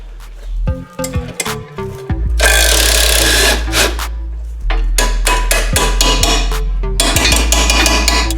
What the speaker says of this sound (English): I'm just going to take off these 9/16 bolts